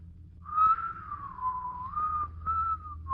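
A boy whistles a slow, wavering tune, each phrase clear and fairly near over a faint low background hum.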